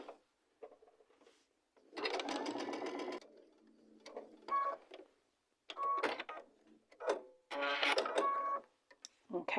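A sewing machine stitches quilt block pieces in several short bursts of rapid whirring, with pauses of fabric handling and quiet speech between runs.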